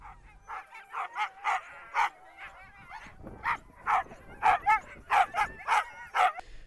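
Many sled dogs at the Dinner Plain Sled Dog Challenge, an Australian alpine resort event, bark and yip in a steady excited chorus of sharp repeated calls, fairly close with no talking.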